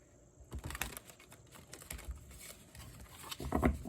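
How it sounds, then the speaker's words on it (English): Tarot cards being shuffled in soft, irregular riffling bursts, quiet at first and growing louder and more clustered toward the end. "Let's do some shuffling, of course."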